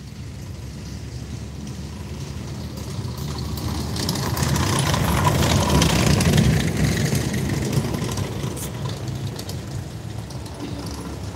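A steady Italian tractor engine idles nearby, its low rumble swelling slightly in the middle before settling back, with no voices over it.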